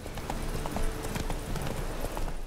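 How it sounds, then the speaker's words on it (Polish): Roach the horse trotting in Witcher 3 with a new Nilfgaardian saddle: rapid, steady clip-clop hoofbeats on hard ground, close and continuous over a muffled game background. "Jak ja tu kopytkuję. Moją płotką i mam nowe nilfgaardzkie siodło."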